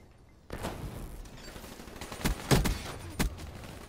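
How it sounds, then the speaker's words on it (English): Gunfire in the video game Black Ops III, starting abruptly after a quiet moment and continuing as a fairly faint string of shots, with a few sharper single reports standing out toward the end. "This guy's just shooting for no fucking reason"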